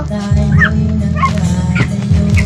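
A small dog yips and whimpers several times, high and close, over a steady background of people talking.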